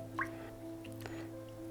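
Mullein roots are rubbed and washed in water, giving faint, close drips and soft squishing over a low steady background hum, with no talk.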